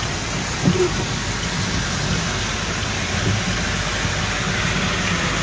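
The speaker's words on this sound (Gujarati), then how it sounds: "વરસાદ બહુ જ છે અતિશય વરસાદ છે" Heavy monsoon rain at Bhavnath in Junagadh, a dense continuous hiss of downpour with a low rumbling undertone and a faint thud or two, steady and close throughout.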